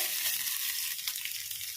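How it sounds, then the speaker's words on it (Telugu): Tempering of cumin, chana dal, dried red chilies, curry leaves, garlic and onion fries in hot oil with a dense, bright, steady sizzle, close and unbroken for a short moment, with no voices. "ఇప్పుడు తాలింపు అంతా ఇలా వేయించుకున్నాము కదా"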